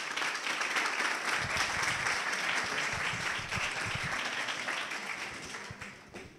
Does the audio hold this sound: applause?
yes